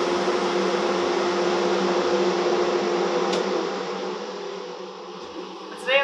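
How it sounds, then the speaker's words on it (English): A shop dust collector tucked into a garage corner runs with a steady, loud whooshing hum, easing off slightly toward the end before a short bump. "The biggest inconvenience about having my dust collector tucked into this corner is that every time I want to turn it on"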